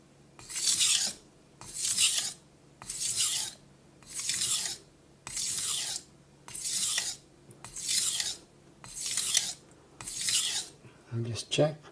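A knife blade is stroked across a Naniwa whetstone, ten even, rhythmic rasping passes about one second apart, each a bright scraping swipe followed by a short pause, ending with a light clink.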